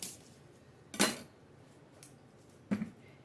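A cutting board flipped over on a kitchen counter, heard as two or three sharp wooden knocks and clatters separated by quiet pauses.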